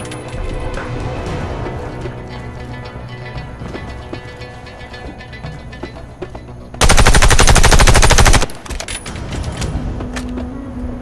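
Gunfire at shooting-range targets in the Warface video game, with loud repeated shots over game ambience and one sustained burst of rapid automatic fire lasting under two seconds.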